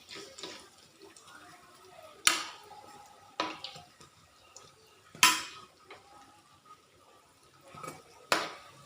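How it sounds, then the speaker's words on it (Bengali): Fritters (bora) fry in a pan in a home kitchen while a metal utensil turns them over. Several sharp clinks and scrapes ring out at irregular intervals over a quiet background. "এই যে এক পিঠ ভাজা হয়ে গেছে বড়াগুলির, আমি হলো উল্টে দিতেছি"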